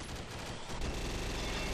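An M134 minigun firing in a video game, a dense continuous roar of rapid gunfire filling the short burst without pause.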